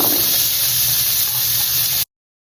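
Onions sizzling in butter in a pan, a loud, bright, steady hiss that runs without a break for about two seconds and then stops abruptly.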